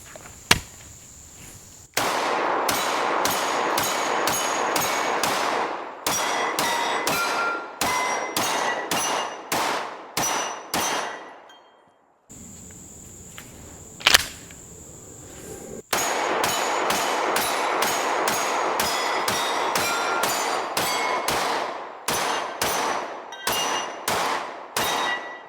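Rapid pistol fire from a Smith & Wesson 2.0 Carry Comp and a Rost Martin RM1C Comp striking steel dueling tree plates outdoors, loud repeated shot strings with ringing metallic clangs, a brief pause in the middle, no talking.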